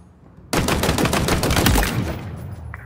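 Rapid automatic gunfire from Halo Infinite's academy tutorial target shooting, a loud, dense burst of about a second and a half of shots that then tails off into quieter echoes.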